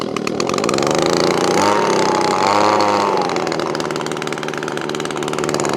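An Echo ES2400 leaf blower's two-stroke engine runs after a carburetor change, a loud, close, continuous buzzing drone that holds steady, with slight changes in pitch as it warms up.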